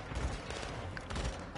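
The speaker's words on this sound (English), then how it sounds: "What the fuck are you guys shooting at?" Dense gunfire in Call of Duty: Modern Warfare 2 on PS5, a steady rattle of overlapping shots that fills the whole moment, loud and continuous, with no voices over it.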